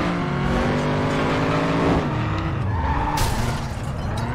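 A car in the racing game FlatOut 2 skids out of control, with loud tire squeal and engine roar close up, the pitch sliding down as it loses grip.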